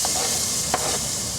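Bacon hits melted butter in a pot and sizzles steadily in a continuous loud frying hiss, with a brief stir or clink partway through.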